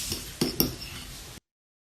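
Potato dough with melted butter and salt being mixed in a bowl, heard as a few sharp clinks of a utensil against the bowl amid soft scraping, close and alone.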